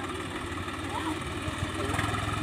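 A Swaraj 744 tractor engine runs with a steady, loud, close drone while pulling a Mahindra 275 DI tractor and trolley stuck in mud.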